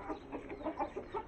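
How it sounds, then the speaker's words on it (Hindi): Hens wait for feed, giving a few soft, quick clucks in an uneven rhythm. The calls are faint and close, with no talking. "और इधर मुर्गियाँ इंतज़ार कर रही हैं"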